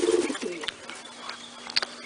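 Pigeons near a loft give soft, low cooing calls at the start, followed by a few scattered brief calls and rustles. The sound is fairly close and quiet, with no talking.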